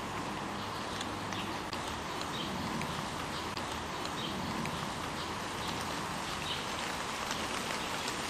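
Rain falling outdoors, a dense, unbroken broadband hiss of drops that stays loud and even throughout, with faint tapping patter mixed in and no voices.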